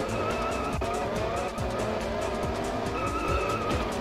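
Race car in GT Pro Series on the Wii, skidding into a wall: a loud steady engine drone with tire squeal and skidding noise running throughout, close and continuous, no talking.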